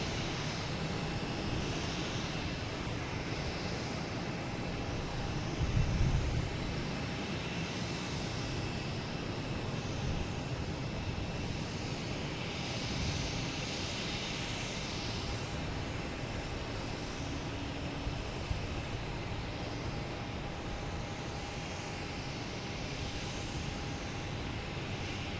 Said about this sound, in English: United Airlines on 15 right, taking off, heading